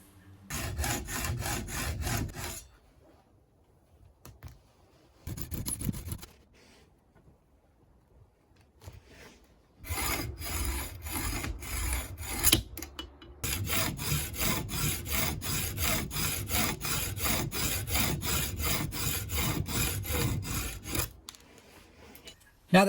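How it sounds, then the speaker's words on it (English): Hacksaw cutting the nubs off a padlock being scrapped, with loud rhythmic back-and-forth rasping strokes in several bursts separated by short pauses, close up and without talking. "The next thing I want to do is cut off these 4 nubs, and I'm going to use my hacksaw."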